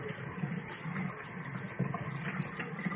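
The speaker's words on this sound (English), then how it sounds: "So I saturate it in water as hot as I can tolerate it." A washcloth being soaked in hot water in a sink, giving a steady close wash of running and sloshing water that lasts throughout, with no talking.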